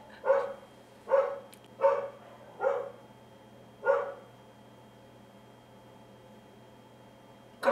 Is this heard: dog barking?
yes